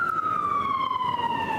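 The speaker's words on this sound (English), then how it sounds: "I can't do anything about the ambulances, though." An ambulance siren passing in the city near a Boston construction site, a steady electronic wail slowly sliding downward in pitch, moderately distant, with no talk during it.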